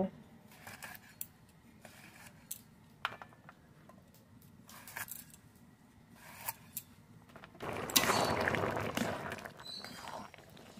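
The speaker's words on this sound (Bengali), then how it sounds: "এইভাবে সব পটল কেটে নেব।" Pointed gourd (potol) being cut in a village kitchen, a scatter of crisp knife clicks and chops at close range, then a louder rustling, scraping stretch near the end.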